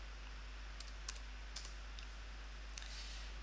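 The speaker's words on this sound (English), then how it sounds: "So we'll type in our staff code" Staff code being typed on a computer keyboard at a retail checkout counter, a few quick scattered key clicks at close range over a quiet steady hum.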